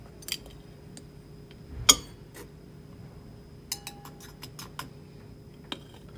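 Activated carbon scooped into filter fluid, heard as sparse light clinks and taps of a scoop against glassware, with a few sharp metallic ticks in a quiet room.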